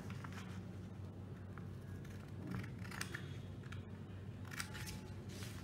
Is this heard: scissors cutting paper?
yes